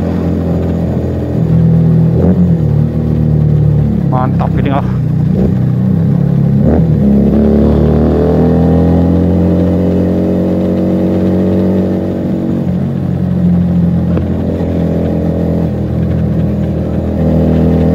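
A Keeway SCR 250V motorcycle fitted with a Mavionic aftermarket exhaust revs loudly and close, its deep throbbing engine note swelling through several throttle blips and a long sustained rise and fall, with a brief spoken comment.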